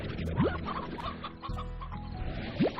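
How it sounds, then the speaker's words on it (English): Chickens clucking in the video game Slime Rancher, a steady stream of busy clucks over game sounds, with two rising chirps and no talk. "You unruly chickens!"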